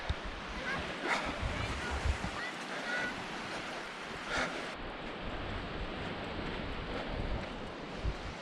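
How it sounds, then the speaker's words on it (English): Ocean surf rolls onto Newport Beach on the Welsh coast, a steady wash of breaking waves with gusts of wind buffeting the microphone. "So glad I'm on the beach."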